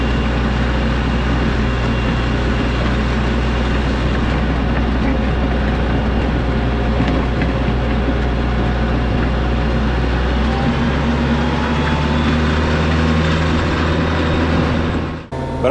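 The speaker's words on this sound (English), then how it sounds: "But I'll tell you what's fun is this tractor, you don't even know that thing's back there." A tractor pulling a gravel driveway implement drones along steadily, its low engine rumble and the scrape of gravel continuous and close before cutting off at the end.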